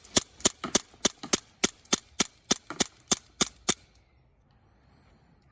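A Walther PPK replica BB gun fires about fifteen sharp, close snapping shots in a quick, fairly even rhythm, then stops, leaving near silence.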